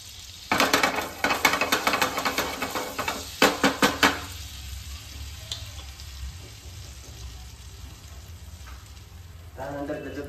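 Cumin seeds hit hot oil in a pan while cooking paneer butter masala, giving a crackling sizzle with bursts of clattering utensil taps in the first seconds, then a softer steady fry, close and moderately loud.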